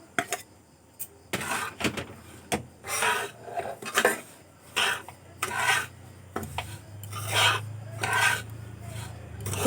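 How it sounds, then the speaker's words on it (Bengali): Semolina laddu mixture with fried cashews and raisins being stirred in a pan, heard as repeated rasping scrapes of a utensil across the pan bottom in an irregular rhythm, close and moderately loud, with no talking. "এভাবে কিছুক্ষণ নাড়াচাড়া করে নেব।"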